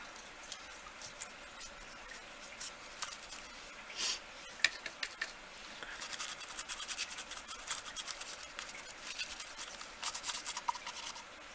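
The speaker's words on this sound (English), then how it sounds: "Now I'm just going to dry brush a little bit of gesso over the tops." Gesso being dry brushed over the tops of a birdhouse, a dry, scratchy brushing of bristles on wood in short repeated strokes, faint and close, growing busier toward the end.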